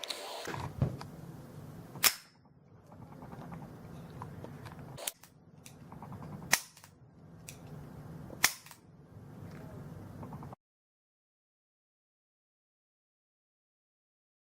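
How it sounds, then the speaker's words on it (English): Ruger SR22 pistol dry fired, giving sharp metallic hammer clicks, five distinct snaps spaced about every one to two seconds over light handling noise, then the clip falls silent. "if you can safely dry fire the Ruger SR22 pistol"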